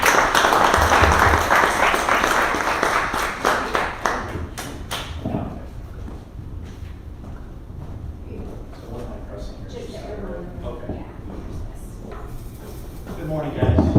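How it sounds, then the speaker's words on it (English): An audience in a meeting room breaks into a round of applause to welcome a speaker, dense clapping for about five seconds that fades out, followed by quieter shuffling, thumps and murmuring before a voice begins. "let's welcome Larry and give a round of applause"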